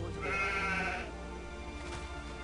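A sheep in the game Age of Empires 2 gives a single wavering bleat lasting about a second, fairly clear over a low game background hum.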